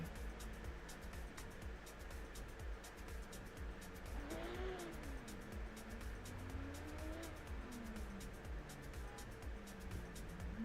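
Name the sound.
drift cars racing, BMW versus S Chassis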